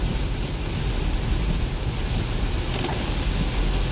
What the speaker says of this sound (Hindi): आप देखो क्या जबरदस्त बारिश हो रही है